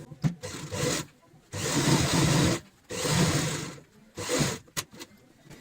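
Sewing machine stitching a fabric strip onto a ladies' purse made from old cloth, running in three or four steady whirring bursts of one to two seconds each, separated by short pauses and a few light clicks.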